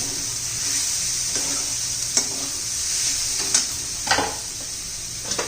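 Asafoetida (hing) dropped into hot oil for a spicy Maharashtrian cluster-bean (gavar) curry, giving a steady close sizzle with a few sharp crackles and spoon clinks against the pan.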